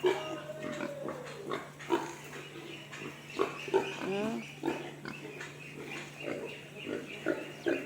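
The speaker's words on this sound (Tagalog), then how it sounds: "Tingnan mo yung baboy, oh." Pig grunts from a farm pen, repeated irregular snorts close by, mixed with someone talking over them and a steady low hum in the background.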